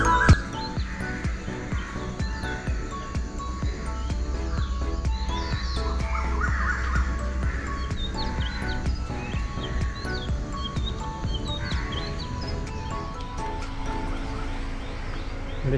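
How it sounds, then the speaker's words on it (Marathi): A dense dawn chorus of birds chirps and calls at Poladpur around 5:45 in the morning, with insects and crickets buzzing steadily beneath, continuous and fairly close throughout. "पक्ष्यांचा कसा आवाज येतोय"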